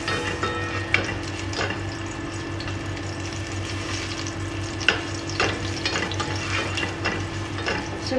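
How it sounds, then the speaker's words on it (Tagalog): Onions sizzle in hot oil in a frying pan for a Filipino liver adobo, a steady crackling fry broken by scraping stir strokes and clinks of the utensil, close and alone. "Ilalagay ko na po yung sibuyas, guys."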